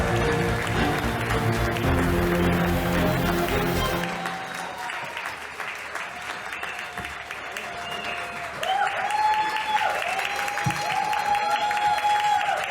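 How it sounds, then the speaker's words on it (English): A large summit crowd claps in a loud, sustained round of applause welcoming Governor Gary Locke. It fades after a few seconds into lighter scattered clapping with some background noise. "Please join me in giving a very warm round of applause and a warm welcome to"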